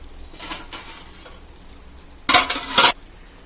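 Mutton liver gravy frying in oil on a low flame, a soft continuous sizzle broken by a faint stir near the start and a louder burst of utensil scraping and clinking toward the end.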